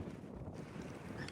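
Wind gusts outdoors by a lake, a faint, continuous rushing buffet against the microphone with no voices.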